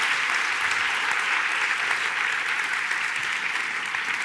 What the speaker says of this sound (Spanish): Un aplauso para las tres.